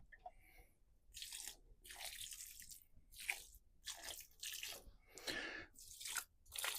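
Water poured over vegetable plants in outdoor containers topped with fish blood and bone fertiliser, heard as a run of close splashing, dripping bursts repeating roughly every half second to second, with no talking.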